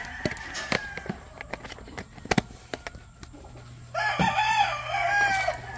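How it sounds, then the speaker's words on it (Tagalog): Chickens being fed mixed feed cluck and crow loudly, with a sustained rooster-like call over the final seconds that follows scattered clicks and knocks from handling. "Dosing manok."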